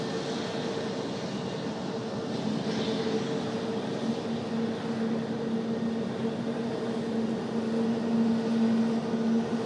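An airliner departing runway 5 right at Raleigh-Durham airport, a sustained engine roar with steady tones that swells slightly louder toward the end.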